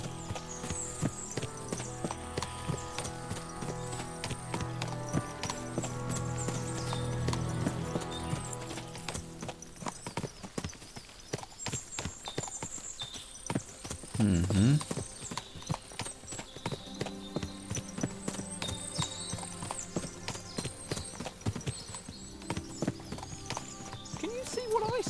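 Horses clip-clop in a steady, dense stream of hoofbeats through a medieval setting in Kingdom Come Deliverance II, with ambient game sound throughout and a brief louder whinny-like burst midway.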